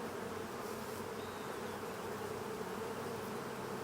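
Honey bees hum in a steady, dense drone from an opened hive, a close and continuous buzz with no voices over it.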